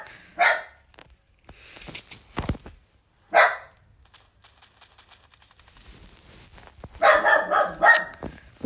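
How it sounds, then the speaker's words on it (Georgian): A dog barks sharply a few times with quiet gaps between, ending in a quick burst of several barks in a row, fairly close by. "ძაღლის ხმაც არის კორპუსში"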